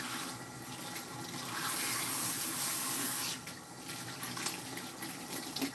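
Tap water running steadily into a salon shampoo sink while hair is rinsed, a continuous close hiss that swells louder for a couple of seconds in the middle and then settles back.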